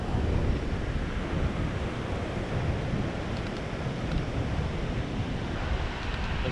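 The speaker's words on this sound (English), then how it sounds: "Oh, here comes the water." Ocean waves wash over dark rocks at Cape Arid on the coast, a loud continuous rushing surf with wind buffeting close to the microphone.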